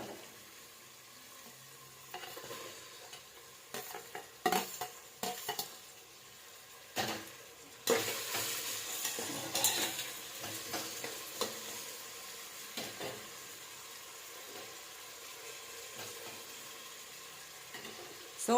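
Tomatoes frying with onions in a pan for egg biryani, with a steady sizzle and repeated scraping stirs of a spoon against the pan. A louder burst of frying comes midway, and no one talks.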